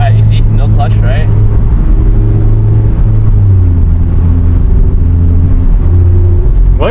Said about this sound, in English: Like when you shift without the clutch.